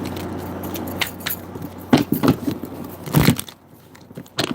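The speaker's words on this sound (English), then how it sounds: "it's loud ass crunchy shuffling" Loud, crunchy card shuffling close by, a deck riffled in several sharp bursts of crackling snaps with brief pauses between, louder toward the middle and dying down near the end.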